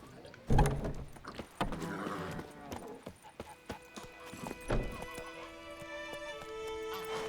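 Geralt's horse Roach in The Witcher 3: Wild Hunt clip-clops along with hoof strikes and a whinny, close and clear, followed by lingering tonal ambience; a voice speaks briefly over it.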